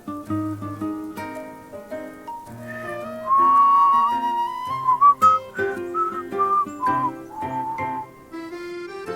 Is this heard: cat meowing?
no